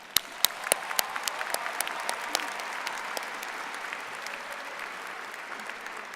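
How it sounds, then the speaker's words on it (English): Graduates applaud at the 2013 William Paterson University commencement ceremony, starting with a few sharp separate claps that quickly swell into a broad, steady round of applause from a large crowd. "We deserve a round of applause for our hard work."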